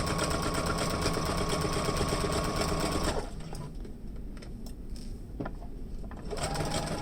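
A sewing machine stitches a fabric face mask lining around a curve, running steadily and close for about three seconds, stopping, then starting up again near the end with no talk.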